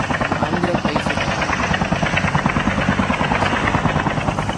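A helicopter in a Call of Duty battle royale match thuds loudly and nearby, its rotor beating in a rapid, steady pulse with engine whine throughout.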